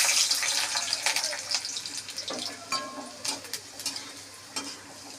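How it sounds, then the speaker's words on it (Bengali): Garlic cloves go into hot oil with dried red chillies already fried, giving a steady sizzle with scraping stirring strokes and a few clinks, close and moderately loud. "শুকনো লঙ্কাটা ভাজা হয়ে গেছে, এবার এর মধ্যে রসুনগুলো দিয়ে দিচ্ছি"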